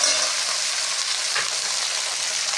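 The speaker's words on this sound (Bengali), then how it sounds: "এবার এই কাঁচা লঙ্কা বাটা, আদা বাটা দিয়ে আলুটাকে কষবো" Potatoes frying in a pan with green chili paste and ginger paste, a loud, dense, continuous sizzle heard up close without pause.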